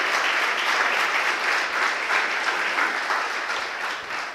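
Church congregation applauding together during a Portuguese-language sermon, a dense, steady wash of clapping at close range that holds loud throughout and thins slightly toward the end.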